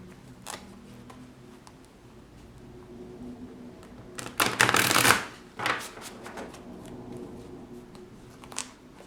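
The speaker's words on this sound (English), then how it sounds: "maybe I should pull another card just for the advice" Tarot cards are shuffled by hand, a quiet riffle building to a loud burst of flapping card sound in the middle, then a few softer taps, with no talk.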